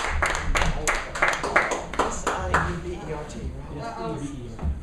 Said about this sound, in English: let's go ahead and give a round of applause for Scott Vanya